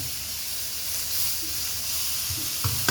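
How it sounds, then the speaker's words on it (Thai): Minced pork stir-frying in a pan with a little water added, a steady close sizzle and hiss with faint stirring scrapes and a couple of light knocks near the end, for chili paste. "รวนหมูนะคะท่านผู้ชม"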